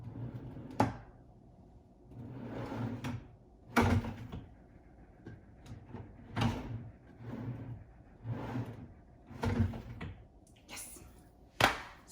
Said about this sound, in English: Here I've adjusted the slides on both the frame and the drawer to make it so that they will fit into the drawer